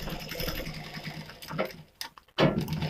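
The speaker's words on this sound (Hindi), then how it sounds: "इस प्रकार से ये सिलाई हो रहा है।" A sewing machine stitches the hook strip of a katori-cut blouse in short uneven runs, its needle rattling close by, then pausing briefly before starting again.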